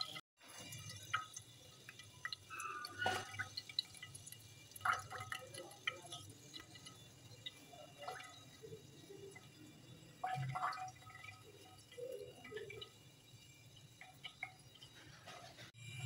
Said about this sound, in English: और पीछे ASMR में जो आपको सुनाई दे रहा है वो है कैंडल्स के बबल्स.